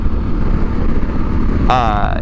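A 2016 Yamaha Super Tenere motorcycle engine rumbles steadily and loudly under a running ride, with a brief higher-pitched whine rising near the end.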